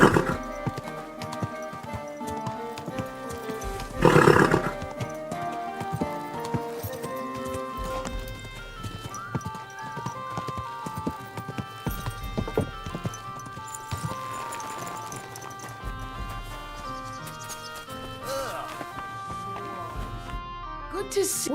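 Horse hooves clip-clop with an occasional whinny in the video game Kingdom Come: Deliverance II, steady against a dense layer of game music and ambience, with a brief louder burst partway through and characters speaking over it.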